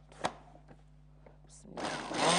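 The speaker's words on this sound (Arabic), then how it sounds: "ونضرب معانا كل ده في الخلاط" A blender kicks on after a few faint clicks and taps, its motor roaring loudly and steadily to the end while blending spices for a fish dish.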